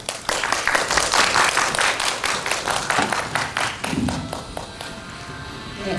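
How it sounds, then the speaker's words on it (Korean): An audience at a humanities lecture applauds to welcome a visiting art history professor. The clapping is brisk and crowded at first, then thins and fades out over several seconds. "큰 박수로 환영해 주시기 바랍니다."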